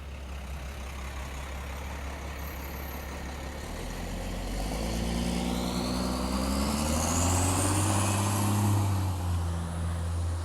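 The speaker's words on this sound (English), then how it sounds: "So let's let this truck go by" A truck approaches and passes on a road outdoors, a low engine rumble growing steadily louder into a heavy roaring pass with tire whine sweeping upward, loud and close by the end.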